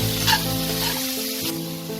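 Masala spices fry in oil for a Bengali-style tilapia fish curry, a close, steady sizzle with a brief stir in the middle.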